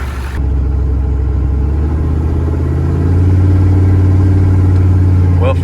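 A 6.5 liter truck engine running while driving, a loud, steady low rumble close by that rises in pitch and strength partway through as the truck pulls away and speeds up.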